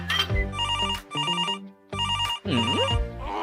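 A cellphone rings with a repeating electronic ringtone melody in short bursts, near and loud, with no talk over it.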